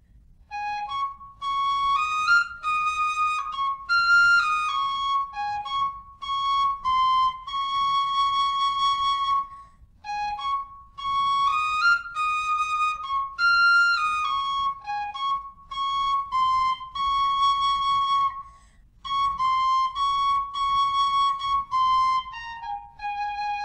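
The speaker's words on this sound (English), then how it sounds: "I'll also play on a D whistle for the tutorial section of this video now" Tin whistle in D playing a cover melody of a country ballad, bright clear tones in phrases of sustained and quick notes, alone and close with brief pauses between lines.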